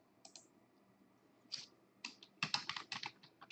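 Someone types a username on a computer keyboard in a quiet room: a brief tap, then growing bursts of soft key clicks in quick, uneven clusters.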